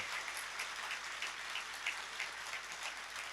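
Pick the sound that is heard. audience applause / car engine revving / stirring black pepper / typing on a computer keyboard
audience applause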